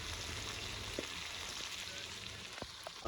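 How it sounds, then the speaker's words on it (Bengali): Chicken is stir-fried in spices in a clay pot over a village wood-fired chulha, giving a steady, soft sizzle with a few faint stirring knocks. "চিকেন কষা চলছে এখন।"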